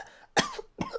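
Two sharp, harsh coughs, close and loud, separated by a brief pause.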